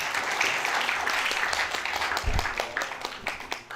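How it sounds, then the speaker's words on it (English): A lecture hall full of people applauds after a presentation, a dense burst of clapping that thins and fades toward the end. "please give them one more applause"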